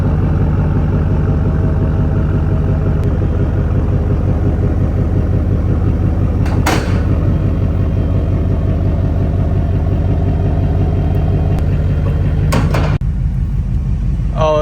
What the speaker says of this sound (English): So I'm gonna take her down the street, make sure I go through all the gears, make sure everything feels good